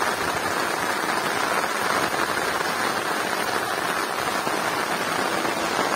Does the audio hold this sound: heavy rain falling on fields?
yes